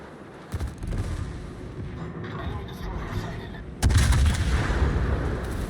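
Heavy naval gunfire in the World of Warships video game, a dense rumbling barrage that jumps to a louder burst partway through, with someone talking over it.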